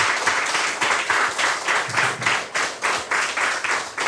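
At the close of a French driving-school television programme, a studio audience applauds. The clapping is moderate and rhythmic, swelling and dipping in waves, with no talk over it.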